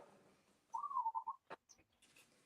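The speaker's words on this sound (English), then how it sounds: "I'm just listening to doves over here." A faint, wavering birdlike call like dove cooing, heard once in the distance, followed by a few soft clicks and rustles.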